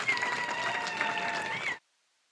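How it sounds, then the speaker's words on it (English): A brief burst of applause from an audience at a welcoming ceremony for repatriated Batswana, moderately loud clapping that cuts off abruptly. "Can we give him another round of applause, please?"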